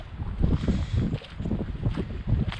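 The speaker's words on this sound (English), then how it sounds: "It's windy out." Gusty wind blows outdoors on a cold, snowy day, buffeting the microphone with heavy low rumbling surges in uneven waves and no voices.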